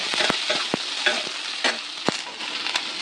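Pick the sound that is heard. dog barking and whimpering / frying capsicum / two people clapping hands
frying capsicum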